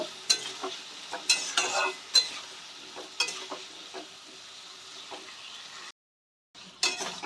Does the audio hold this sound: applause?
no